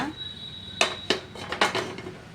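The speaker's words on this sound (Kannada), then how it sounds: "ಸ್ಟವ್ ಆನ್ ಮಾಡ್ಕೊಂಡು ಪಾತ್ರೆ ಇಟ್ಕೊಳ್ಳೋಣ" A metal cooking pot set down on a kitchen stove, heard as four or five sharp, close metallic clanks in quick succession over a faint background hiss.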